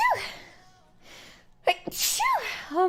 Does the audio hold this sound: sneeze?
yes